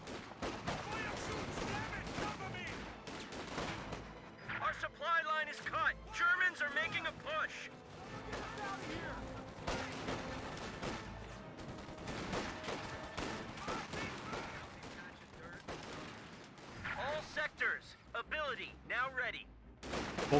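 Battle gunfire in the game Company of Heroes 2, with bursts of automatic fire and scattered shots throughout, mixed with game music and effects while a commentator talks over it.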